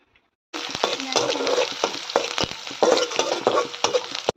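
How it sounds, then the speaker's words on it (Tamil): Sliced onions are added to a hot pan and sauté with a steady crackling sizzle, broken by sharp scraping and stirring clicks; silence comes first, and then the frying starts abruptly and continues close and fairly loud. "இப்போ வெங்காயம் சேர்க்குறேன் அது ஒரு பத்து நிமிஷம் நல்லா வதக்கிக்கலாம்"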